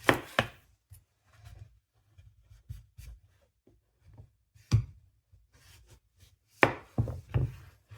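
A knife cuts through food on a board in close, crisp strokes, irregular taps and scrapes separated by quiet gaps, with a few sharper louder cuts near the start and end, and no voices.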